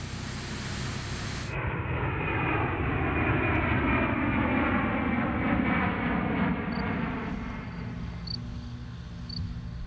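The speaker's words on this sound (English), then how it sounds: "the European prototype is shipped on board a giant Airbus Beluga cargo plane" A giant Airbus Beluga cargo plane roars loudly overhead with a steady, sweeping engine drone that shifts in pitch as it passes, filling the whole stretch without talk.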